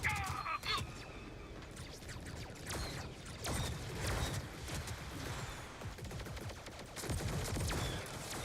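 Rapid blaster fire from the Star Wars Hunters game, with sharp repeated shots and crashes running throughout at a steady, busy level.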